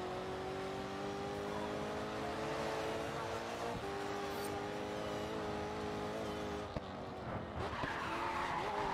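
Car tires skidding and squealing under braking into a turn in the racing video game Rough Grid 2, a sustained engine drone with tire screech over about nine seconds, a voice talking over it.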